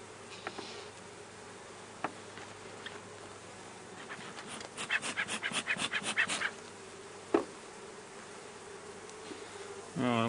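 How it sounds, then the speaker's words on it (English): Honey bees buzzing around an open top bar hive during comb handling, a continuous close drone with a louder pulsing swell in the middle, a few faint knocks and brief handling sounds. "If these silly bees will get out of the way."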